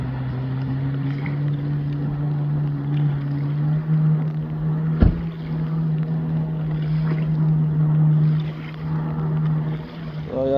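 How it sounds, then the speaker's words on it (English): A Kawasaki SXR 800 stand-up jet ski drones steadily across the water, its engine a sustained hum with wind buffeting the microphone and a single sharp knock midway. "So yeah, Jake's on a Kawasaki SXR 800. First ski."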